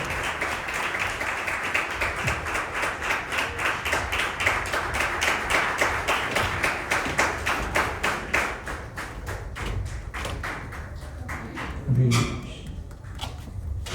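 Applause at an ISKCON youth festival honoring the chief guest: a dense crowd clapping steadily and loudly for about eight seconds, then thinning to scattered claps, with a single thump near the end.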